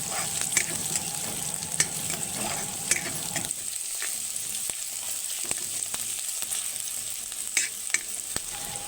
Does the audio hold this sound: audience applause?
no